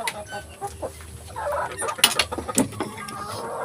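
Native chickens cluck and squawk nearby in short, irregular bursts, with a few sharper calls over a quiet chicken-farm background.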